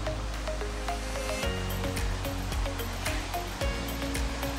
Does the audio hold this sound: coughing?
no